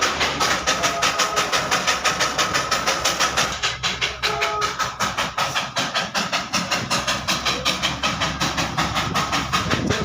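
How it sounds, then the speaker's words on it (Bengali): The Darjeeling toy train runs around Batasia Loop with a rapid, regular clickety-clack of wheels over rail joints, a steady rhythmic pulse close by, with engine rumble and a brief squeal partway through. "টয় ট্রেনটা চলে আসলো বাতাসিয়া লুপের উপরে একদম মেন পয়েন্টে"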